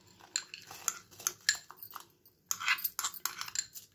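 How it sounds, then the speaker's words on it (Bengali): Ghee-coated rice tipped into boiling milk for payesh in a metal pot, a run of irregular clinks, scrapes and pattering bursts, close and moderately loud, with a short quiet gap midway. "এবার আমি যে চালটা ঘি মাখিয়ে রেখেছিলাম সেই চালটা আমি এর মধ্যে দিয়ে দেব।"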